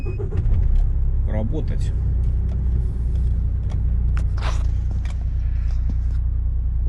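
A car drives on the road with a continuous low engine and tyre rumble heard from inside, while someone talks over it.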